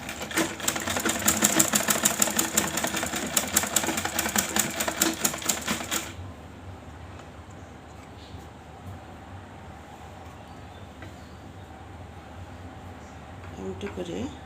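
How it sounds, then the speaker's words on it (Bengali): Sewing machine stitching fabric crosses together for piping, rattling fast and loud for about six seconds, then stopping, leaving quiet room noise with light handling sounds. "এখন এই ক্রস দুইটাকে এমন করে ধরবে, এর উপর সেলাই বসিয়ে দেবে।"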